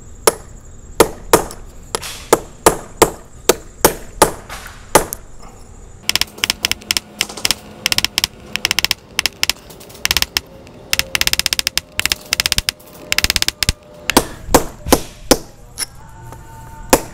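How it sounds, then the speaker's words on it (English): Cold chisels being hammered into a wall between drilled holes: sharp, loud metallic hammer strikes, at first spaced singly, then in fast repeated volleys, ringing close throughout. "Now I got a few of these cold chisels. I'll start with a little one and see how it goes."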